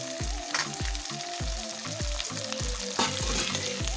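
Chopped tomatoes frying in hot oil in a pan for a chicken curry, a dense close sizzle with rhythmic thumping strokes of a spatula stirring.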